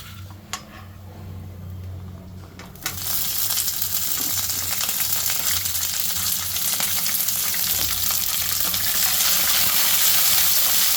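Green chillies drop into hot oil in a pan, and after a quiet start with a couple of small clinks, a loud continuous sizzle bursts up and holds steady, close by, with no talking.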